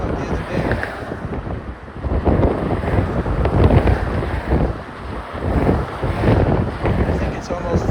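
Heavy wind buffets the microphone on the Golden Gate Bridge, a loud, continuous roaring rush that swells and dips in gusts throughout.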